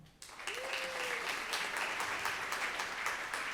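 A live audience at a recorded Supreme Court discussion claps to cast a vote, a short, steady burst of moderate applause lasting a few seconds.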